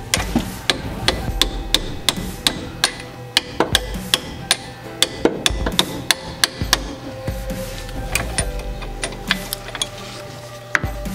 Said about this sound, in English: and then hammer the extension